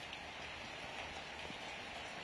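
Rain falls steadily across an outdoor MLS NEXT PRO soccer match between Crown Legacy FC and New England Revolution, a faint, even hiss of drops on the field and surfaces with no one talking.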